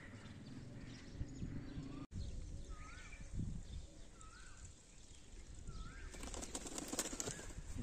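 A pigeon's wings flap in short bursts against outdoor village background noise, with a brief flurry of sharp clattering near the end; no talking.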